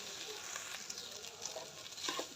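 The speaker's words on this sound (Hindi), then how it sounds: "इसको अच्छी तरह हम भून लेंगे मैदे को।" Maida flour roasting in a pan, giving a soft, steady sizzle with faint stirring scrapes throughout, quiet and close.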